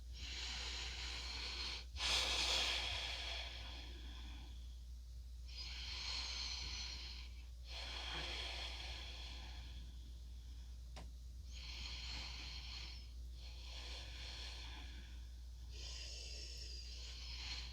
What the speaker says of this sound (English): Some deep breaths.